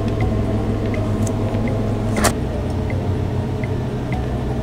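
A heavy wheel on a homemade motorcycle spins steadily, giving a continuous low rumbling whir with faint periodic ticks as it turns, and one sharp clack partway through.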